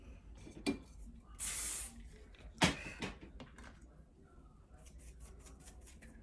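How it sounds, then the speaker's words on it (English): Hairspray from an aerosol can misted onto teased hair during wave and curl styling, one steady hiss lasting about half a second, close, amid rustling and handling noises. "that's just what a little hairspray and a little teasing does"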